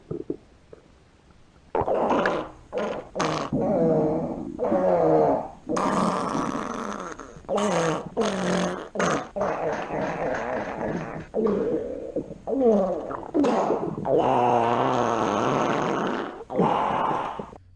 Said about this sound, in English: pretty impressive sound of diarrhea farts